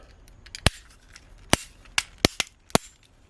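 A plastic Omega Megazord toy from Power Rangers Lightspeed Rescue has its leg folded out, making five or six sharp, close, distinct clicks spaced over a few seconds.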